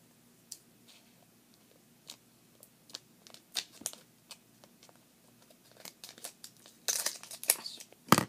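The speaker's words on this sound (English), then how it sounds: "Actually, I'm just going to cut it out." Scissors snip through material while an American Girl doll needle pack is being made, giving a string of sparse, close, crisp cuts and crinkles that build into a denser burst of rustling cutting near the end.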